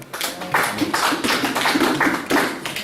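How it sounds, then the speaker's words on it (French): Applause from a crowd, a steady patter of clapping hands that holds for a few seconds at a fairly loud, even level. "Acclamation pour le Seigneur."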